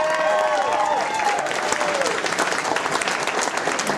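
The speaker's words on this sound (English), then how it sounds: "ladies and gents, a round of applause please for Sean." Wedding reception guests break into a sustained, dense round of applause as the best man is introduced, loud and steady throughout, with faint tones fading early.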